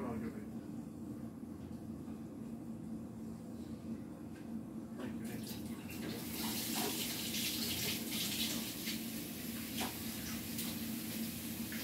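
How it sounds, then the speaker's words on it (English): Water running from a kitchen tap while hands are rinsed; the flow starts faintly and swells into a loud, continuous splashing hiss partway through, with no talk. "let me just rinse my hands off"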